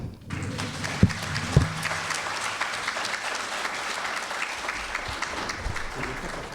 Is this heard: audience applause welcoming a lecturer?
yes